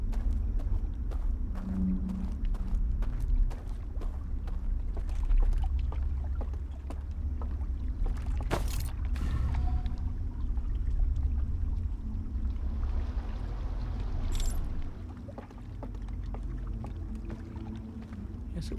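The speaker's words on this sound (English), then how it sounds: "Now we pull the boat back." Boat in Outer Wilds being pulled back, giving a continuous low rumbling water-and-hull churn with scattered clicks and creaks throughout, steady and fairly close.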